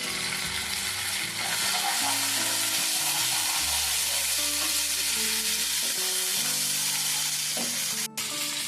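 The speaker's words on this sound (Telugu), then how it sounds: "మసాలాను ఉల్లిపాయలు వేగుతూ ఉన్నాయి" Onions fry with masala and a little turmeric in a pan, a dense, close sizzle running throughout, with a low sustained hum and brief tones underneath.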